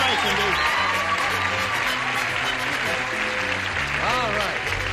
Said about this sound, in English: That's nice of you to applaud Cindy as she goes off.